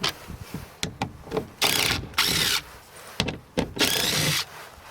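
A power tool removes the 7 mm window regulator motor bolts in the door of a 2011-2016 Hyundai Elantra, running in short, loud whirring bursts separated by brief pauses and small clicks, with no talk.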